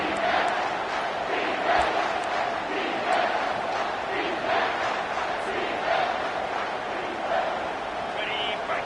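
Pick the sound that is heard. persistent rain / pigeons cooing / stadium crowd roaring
stadium crowd roaring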